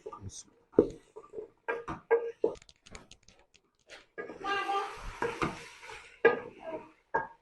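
Turnips being stir-roasted with spices in a pan over a medium flame: irregular clinks and scrapes of a spoon against the pan, in short bursts, with a voice talking intermittently throughout.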